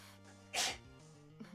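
A single sharp sneeze bursts out near the middle, quick and close, set against a quiet, humming background.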